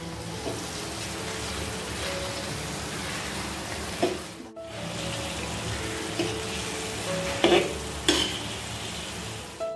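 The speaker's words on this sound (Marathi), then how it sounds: "मंद आचेवर थोडी भाजून घेते हे बघा" Egg tawa masala roasts on a griddle over low flame with a continuous soft sizzle and crackle, broken by a few sharp scrapes and taps of a spatula on the metal.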